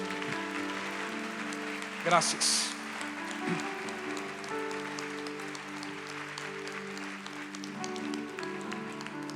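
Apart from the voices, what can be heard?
audience applause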